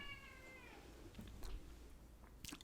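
A cat meows several times indoors, a rising, drawn-out call at the start followed by shorter faint meows, quiet and alone.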